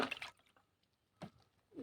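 Homemade liquid fertilizer of fenugreek and sweet lime is poured in small splashes onto garden plants, two short watery bursts separated by quiet, faint and close.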